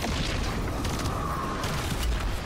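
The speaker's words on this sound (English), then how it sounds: "She's calling in yet another airstrike." Airstrike explosions in the MW3 Zombies video game make a loud, dense booming roar that stays continuous and rumbling throughout, with no clear pause between blasts.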